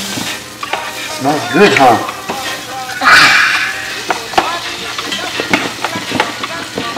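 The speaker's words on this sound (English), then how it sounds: "we got that in our butter. We're gonna brown our vegetables a bit." Vegetables browning in butter in a pan while cooking ackee and salt fish, a steady sizzle with stirring scrapes running under a person's talk.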